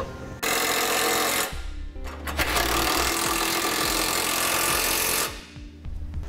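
A power tool runs fasteners down to secure a Blue Ox base plate support bracket on a 2014 Ford Fiesta, loud buzzing bursts of impact-style rattling separated by short pauses.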